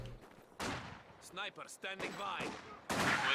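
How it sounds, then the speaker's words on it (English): Sniper rifles firing in a strategy video game during a competitive match, several sharp reports mixed with battle effects, under an excited commentator's voice. "Snipers lining up those Volksgrenadiers. Looks like they both fired on the same one though."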